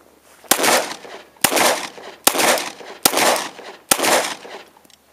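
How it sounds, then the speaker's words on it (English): Glock 19 pistol firing 115 grain Winchester full metal jacket rounds at a shooting range, five sharp loud shots spaced roughly a second apart, each followed by a brief echoing decay. "Glock 19, 115 grain full metal jacket Winchesters."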